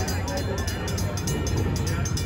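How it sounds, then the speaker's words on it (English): A small amusement park train passes at the theme park's Fright Fest opening day, a steady rumbling roll with faint rhythmic clacks under background talk and crowd noise. "We have to wave at the train when it comes by."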